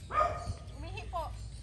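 A dog barks once in a short burst on an outdoor outing at a house in Bulacan, followed by whimpering yips under faint background noise.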